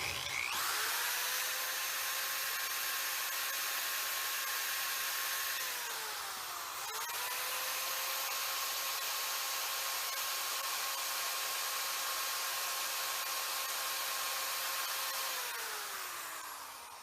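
A power drill boring a hole in wood while making a Thor's hammer, a steady high whine that runs for several seconds, briefly slows and dips, then resumes at full speed, fairly faint and heard alone.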